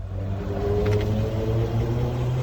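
A 2010 Land Rover LR4 with its 5.0-liter engine, running on very little fuel, hums in a steady low idle that rises into a gentle rev, close and continuous.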